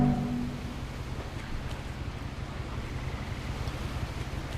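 Ocean water washes and churns steadily around a boat in What Remains of Edith Finch, with a low rumble beneath and soft wind noise, continuous and moderately quiet.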